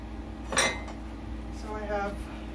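Glazed ceramic pottery pieces with lids clink and knock as they are lifted out of a kiln, one bright clatter followed by a few softer taps against a steady low hum.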